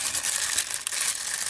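Plastic packaging bags from a parcel shipped from China crinkle continuously and fairly loudly up close, a steady rustling with no talking.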